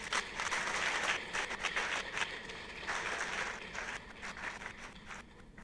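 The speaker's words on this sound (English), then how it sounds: "I want us to give a round of applause" A faint, distant round of applause at a University of Abuja staff award ceremony for the new Vice Chancellor, steady clapping that slowly tapers off.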